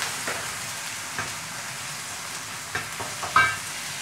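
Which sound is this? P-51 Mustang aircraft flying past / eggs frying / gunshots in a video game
eggs frying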